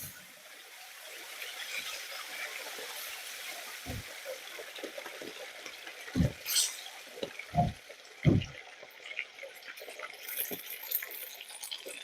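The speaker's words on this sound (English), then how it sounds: "we're going to add 2 and a half cups of water." Two and a half cups of water pour and splash steadily into a pan of browned Rice-A-Roni nearby, with a few heavier thumps and clatters partway through.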